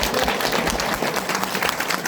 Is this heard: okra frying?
no